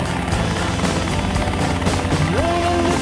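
A helicopter on a first solo flight, its rotor and engine giving a loud, steady, close drone that fills the whole stretch without a break, with no voices.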